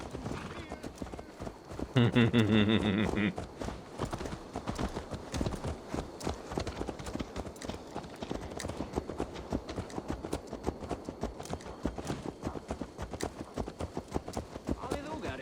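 Horse hooves clip-clopping in Assassin's Creed Valhalla, with a brief loud whinny early on, then a steady run of hoof beats under game dialogue and background sounds.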